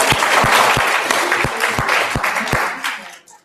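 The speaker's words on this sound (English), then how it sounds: "give yourself a little round of applause" Seminar audience applauding for a few seconds, dense clapping with several sharper individual claps standing out, then trailing off at the end.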